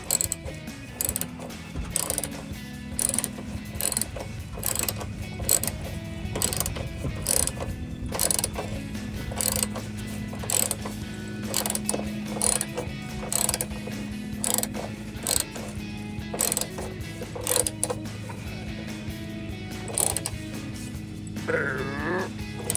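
A ratchet works loose the exhaust bolts on a 2005–2010 Mustang V6 during an axle-back exhaust install, producing a long series of sharp rhythmic ratcheting clicks in bursts, close and clear, with faint strained grunting from the person working.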